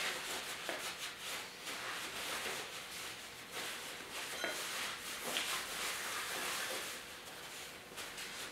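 Metal parts are wiped down with wax and grease remover, giving soft repeated rubbing and swishing strokes of a cloth, quiet and close, with no talking.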